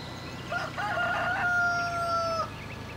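A rooster crows in the Farming Simulator 2013 video game, one loud drawn-out cock-a-doodle-doo with a few clucks at the start, heard alone and close.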